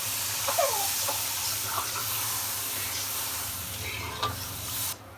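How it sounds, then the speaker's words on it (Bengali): Rohu fish curry broth in a pan bubbles and hisses in a steady sizzle, with a few brief clinks and stirring knocks from a utensil, and no one speaking. "ঝোলটা ফুটে গিয়েছে"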